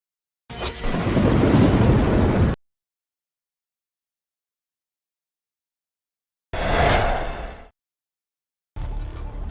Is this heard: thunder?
yes